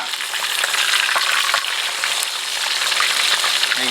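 Steady, loud sizzling and crackling of salt-crusted Nile tilapia frying in hot oil in a pan, a dense hiss with occasional pops, no voices.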